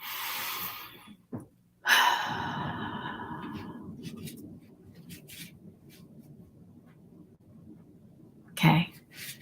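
Slow, deep breathing during a guided breathing exercise: one long airy inhale-exhale swelling then fading over several seconds, with a brief sharp breath sound near the end, no talking.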